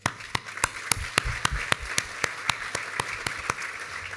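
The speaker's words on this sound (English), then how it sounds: "A round of applause to Australia and its people." Applause at a 2018 gala, heard as a run of evenly spaced, crisp claps ringing out close by at a steady rhythm.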